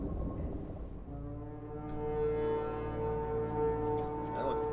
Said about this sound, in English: Sounds like a horn.